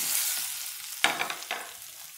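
Taro root fry being stirred in a pan after chili and coriander powder are added, a steady low sizzle broken by two quick spatula scrapes near the middle.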